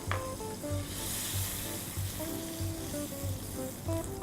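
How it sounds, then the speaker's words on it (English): Olive oil and butter sizzle steadily in a Pro X frying pan over medium heat, a dense, even crackle that holds for the whole stretch while a soft, regular low thumping repeats beneath it. "heat my Pro X frying pan up to a medium heat, and then we'll add some olive oil, generous amount of olive oil, and a generous knob of butter"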